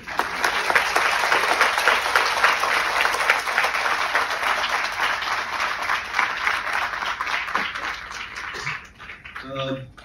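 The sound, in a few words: applause at an award felicitation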